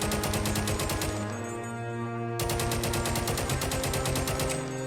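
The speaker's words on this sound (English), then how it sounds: "I opened fire." Rapid automatic gunfire in modded Minecraft during snowy warfare, two loud sustained bursts of evenly spaced shots split by a short pause, with no talk.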